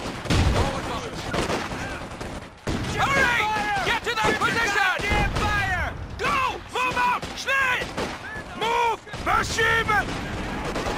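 Battlefield gunfire from Company of Heroes 2 with British forces, rifle and machine-gun bursts crackling in rapid volleys amid clanking mechanisms, under near-constant shouted soldier voice lines.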